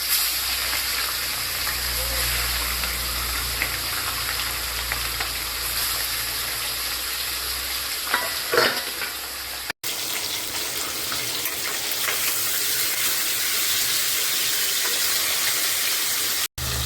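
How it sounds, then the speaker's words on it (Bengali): Fish frying in a pan for a taro (mankochu) curry gives a steady, close, broadband sizzle that runs continuously with little variation. "তাই এই যে মাছটা এখন ভাজা বসালাম"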